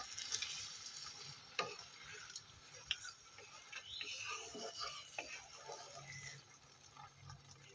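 Ridge gourd, potato and prawns stirred in a pan with poppy seed paste: a quiet, continuous sizzle broken by soft scraping and ticking spoon strokes at an irregular pace.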